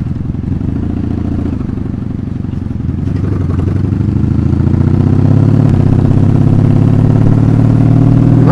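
A 1984 Honda Magna 750cc V-twin motorcycle engine rumbles steadily on the road, its deep throbbing swelling louder midway as it revs, close and continuous with no pauses.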